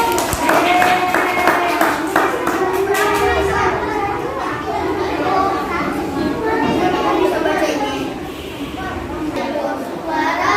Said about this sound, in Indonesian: Tepuk tangan untuk tim puisi